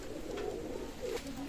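Oman Teddy pigeons, a running pair, cooing in low soft repeated coos, close by and continuous, with no talk over them.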